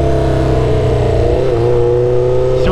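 A Honda CB 500 Four cafe racer's four-cylinder engine revs loudly and steadily close by, its pitch rising slightly toward the end.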